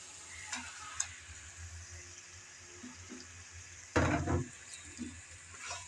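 Chicken drops into a pan of hot spiced oil with a sudden loud burst of sizzle midway, fading to a quieter crackle, after a few soft utensil clicks, no talking.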